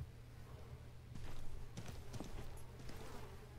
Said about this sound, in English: I hear another dude's footsteps, though.